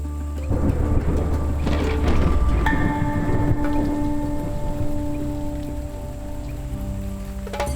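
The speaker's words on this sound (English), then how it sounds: "Oh my god, it's raining." Heavy rain pounds down outdoors on a South African Survivor island, a dense, loud, steady downpour drumming on surfaces, with a deep rumble of thunder rolling through it and no voices.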